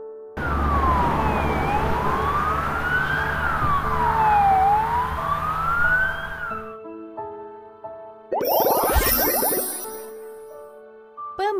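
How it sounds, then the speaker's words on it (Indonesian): A wailing police car siren in a children's vehicle-vocabulary game rises and falls steadily for several seconds, loud and close, then cuts off into a brief burst of electronic game sounds. "Mobil polisi."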